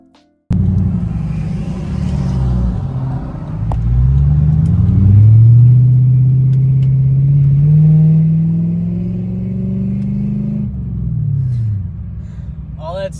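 Lexus LS400 engine rumbling while driving at low speed, a steady low drone that swells for several seconds and then eases back, close and fairly loud.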